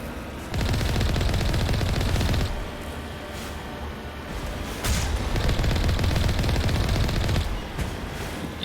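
A turret's machine gun fires in Mass Effect, long loud sustained bursts separated by a brief lull, then rattling again.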